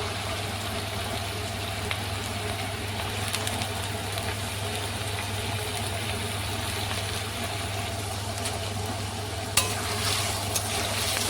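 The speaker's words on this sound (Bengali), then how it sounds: "তো চলো আলুটা ভেজে নিই" Potatoes frying in hot pungent oil in a home kitchen give off a steady low sizzle, with an occasional clink of stirring and a sharper rise near the end. No one speaks.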